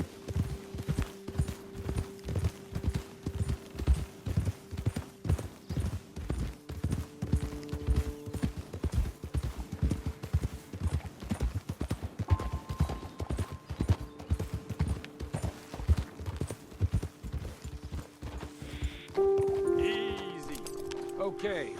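Horses' hooves clip-clop steadily as riders arrive at a hilltop vantage point, a dense, continuous patter of close knocks with occasional tonal horse or animal calls and people talking throughout.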